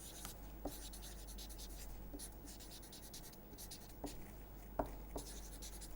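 Chalk or marker writing on a classroom board during a math lecture, a steady scratchy stroke sound throughout with a few sharper taps, fairly close and alone.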